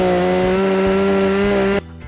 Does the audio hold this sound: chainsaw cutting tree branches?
yes